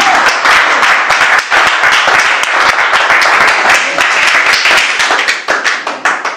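A church congregation bursts into loud, sustained applause, dense rapid clapping from many hands filling the room close by for several seconds, easing slightly toward the end.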